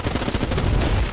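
Rapid Vulcan Cannon fire from the Enter the Gungeon video game, a dense, continuous burst of closely spaced shots running loud and steady through the whole short stretch with no talk over it.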